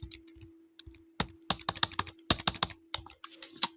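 Close, crisp typing on a computer keyboard while writing HTML list code, with rapid irregular key clicks and short pauses between bursts.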